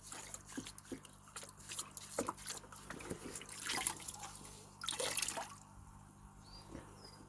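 A coarse filter sponge from a mini garden pond filter is rinsed in water, giving faint, close splashes, drips and squelching trickles in irregular bursts.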